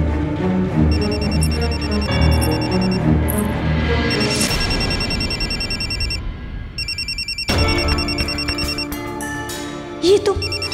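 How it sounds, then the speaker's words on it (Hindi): A mobile phone rings inside a bag, its repeating electronic ring playing under background music, with a brief gap partway through before it resumes. "ये किसका फोन गुनगुना रहा है?"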